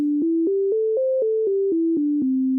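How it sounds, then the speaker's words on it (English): A clean, synthetic-sounding tone plays a major pentatonic scale, stepping up through five notes to the octave and back down, each note evenly spaced with a soft attack, alone and clear. "This gets the dedicated name of the major pentatonic scale."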